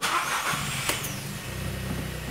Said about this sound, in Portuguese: vamos dar partida no carro aqui, ó